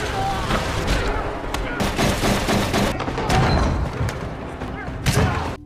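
Film gunshots as a man is shot in the leg during a mafia shootout: loud, rapid repeated bangs and thuds in close succession, with voices mixed among the shots.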